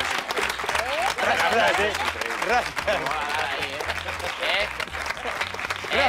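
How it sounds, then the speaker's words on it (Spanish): Audience applause on a Spanish comedy history show, steady clapping at full volume for the whole stretch, mixed with shouting voices and a melodic voice sliding over the top. "¡Aplauso al Rasplash!"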